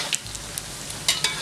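Vegetable fritter batter fries in hot oil in a wok, a loud continuous sizzle broken by several sharp spitting crackles, with no voices.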